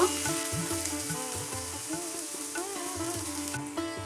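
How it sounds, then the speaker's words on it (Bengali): Chopped onions frying in oil in a pan while being stirred into the oil, a steady broadband sizzle with scraping strokes and some background music, no talk. "পেঁয়াজটাকে ভালো করে তেলের সঙ্গে মিশিয়ে দিচ্ছি পেঁয়াজটাকে কিছুক্ষণ সময় ধরে ভেজে নিব"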